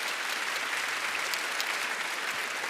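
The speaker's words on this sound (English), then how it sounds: "can we just get a round of applause for that?" Audience applause in a conference hall, a steady wash of many hands clapping together, fairly faint and even throughout without a clear voice on top.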